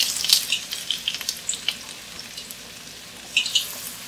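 Ginger and garlic hit hot oil and sizzle close by with light, sputtering pops, loudest at the start and near the end, for General Tso's chicken.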